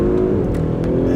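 Inside a 2018 Audi SQ5 in dynamic sport mode, the engine holds near 3,000 rpm and launches hard, a loud, close, continuous throaty roar with a brief rising surge.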